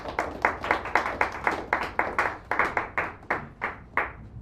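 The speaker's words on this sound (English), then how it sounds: "Give him a nice round of applause, please" A small cafe audience at a poetry reading claps for a poet, a thin group of hands giving roughly a dozen distinct, rhythmic claps that slow and thin out toward the end.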